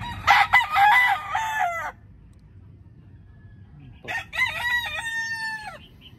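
Backyard gamefowl, a hen and a white Kelso rooster, crow twice at close range, each harsh, wavering call lasting about two seconds, with a quiet pause between them.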